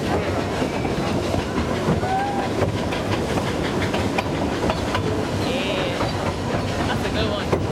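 A steam train rumbles along the rails in Australia with a steady loud roar and faint rhythmic clatter, a brief high squeal or whistle surfacing midway.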